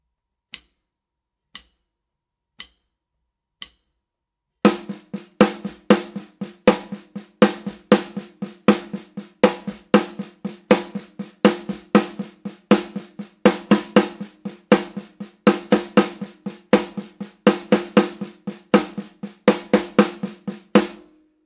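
A sticking pattern played on just the snare drum: four sparse count-in clicks, then a brisk, steady run of crisp snare strokes with regular louder accents, close and clear, with no voices.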